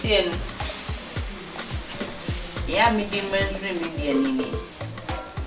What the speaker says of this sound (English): so now we're about to fry the sugar